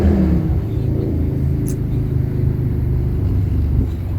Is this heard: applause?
no